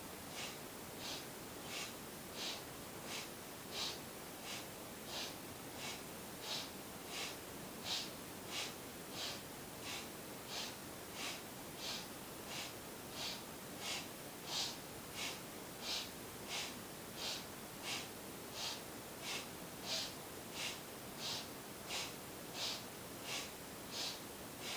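Steady, rhythmic breathing during seated yoga twists, in and out at a quick, even pace of roughly one breath per second, close and continuous over a faint background hiss, with no talking.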